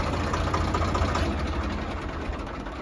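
Tractor diesel engine, a Swaraj 855 or Farmtrac 60, idling steadily nearby with a low knocking rumble throughout.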